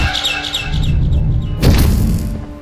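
A bird chirps in quick, bright repeated tweets within the video game Garten of Banban 6, followed by a louder burst of fluttering wings and a dull thump over a low ambient drone.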